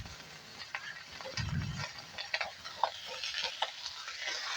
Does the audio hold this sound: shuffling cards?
no